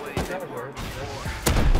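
Explosive blasts from a rocket launcher in the survival game Rust, a sharp boom near the start and a louder, heavier impact about three quarters through, with voices talking over the action.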